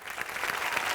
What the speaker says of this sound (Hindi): चलिए हमारे सारे सुपरस्टार के लिए जोरदार तालियां।